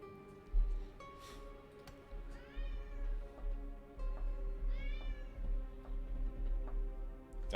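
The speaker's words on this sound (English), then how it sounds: "Oh, we got a cat that's happy." A cat meows twice in a rising, drawn-out call, close and clear, over a steady low hum and faint background clicks.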